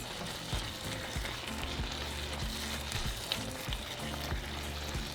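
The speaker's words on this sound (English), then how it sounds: "once it begins to simmer, we're going to add our meat. So give it a quick mix." Beef simmering in chile colorado sauce in a pot, with a steady soft sizzle and bubbling plus occasional scraping stirs as the meat is mixed in, close and quiet with no talking.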